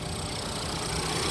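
A Ford Edge 2.0L EcoBoost engine idles with a steady, even mechanical whir and a constant high-pressure fuel pump noise, close and continuous, with no talking.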